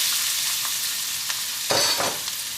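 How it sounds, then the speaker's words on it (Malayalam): Chopped onion hitting hot coconut oil for Kerala vegetable cutlets, a steady close sizzle with faint ticks that swells into a louder burst of hissing and spatter partway through. "നമ്മുടെ എണ്ണ നന്നായിട്ട് ചൂടായിട്ടുണ്ട്. ഇനി നമുക്കിതിലേക്ക് അരിഞ്ഞു വെച്ചിരിക്കുന്ന സവോള ചേർക്കാം."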